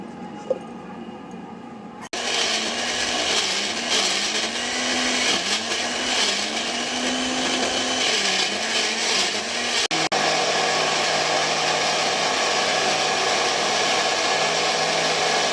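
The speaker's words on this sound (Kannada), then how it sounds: "ಪುದೀನ ಎಲ್ಲ ಮಿಕ್ಸಿ ಮಾಡ್ಕೊಳ್ಳೋಣ" Mixer grinder blending amla, ginger, carrot and mint into a juice base, a loud steady motor whine and churning roar that starts abruptly after a quiet moment and runs on continuously, with a brief stop and restart near the end.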